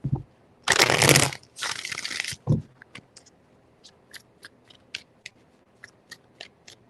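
Tarot cards shuffled three times in quick succession, each a loud riffling burst close to the mic, followed by a series of light taps and card snaps.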